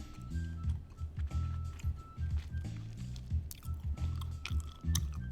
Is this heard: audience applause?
no